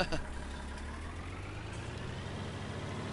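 Steady low idling drone of a tractor engine in Farming Simulator 19 on the Alpine Erlengrat map, constant and close with a faint rise at the start, no voices over it.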